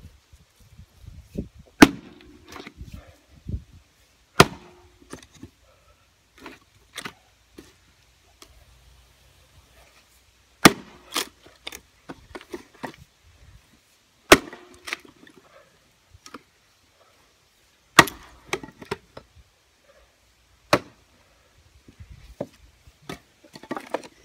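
Wood being split outdoors with heavy splitting axes, a Stihl pro axe among them, a Fiskars X27 and Husqvarna S2800 also in use: a series of sharp, loud, widely spaced cracks and thunks, roughly a dozen strikes with quiet gaps between.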